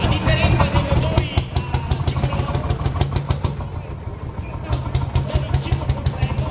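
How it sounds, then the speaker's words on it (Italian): A single-cylinder two-stroke vintage tractor engine runs at a vintage tractor parade during the Festa dea Poenta 2017. It pops in a fast, even, loud rhythm close by, with a dense low thump under each firing stroke. "Monocilindrico questo qua, monocilindrico a due tempi"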